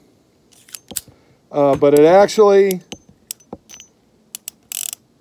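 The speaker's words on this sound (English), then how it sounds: "one thing I am noticing is this trigger where when you're dry firing it" Uberti Cattleman II single-action revolver being dry fired, giving sharp metallic clicks of the hammer and trigger mechanism, scattered singly across the clip around a short burst of speech.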